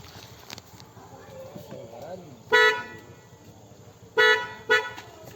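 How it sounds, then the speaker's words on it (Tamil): Three short horn honks from a Tata Punch car, one alone and then a quick pair, sound over a low background murmur. "அண்ட் அதுக்கப்புறம் நாங்கள் இதில் வந்து ஹார்ன் போட்டிருக்கோம்."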